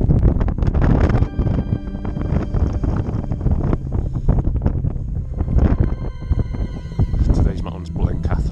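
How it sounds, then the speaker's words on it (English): Loud, gusty wind buffets the microphone on a cloud-covered mountain in sub-zero temperatures, roaring in waves that swell and ease, with a voice partly buried beneath it. "Wind keeps coming and going."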